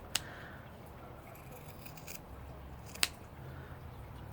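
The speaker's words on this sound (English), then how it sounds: "I'm just going to clip with my scissors that very top part of the sweater." Scissors clip the top of a sweater sleeve, producing three sharp, quiet snips spaced a second or more apart over a soft, low background hush, close by and without talk.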